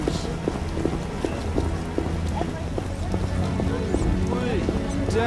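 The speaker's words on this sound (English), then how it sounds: "Downpour." A steady downpour in The Witcher video game, a dense continuous hiss of rain running throughout, with character voices speaking over it.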